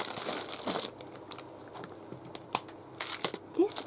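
A paper pack still sealed in its plastic bag is handled up close, producing crinkling and rustling bursts with scattered sharp crackles throughout.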